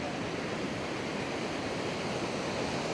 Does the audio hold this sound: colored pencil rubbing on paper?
no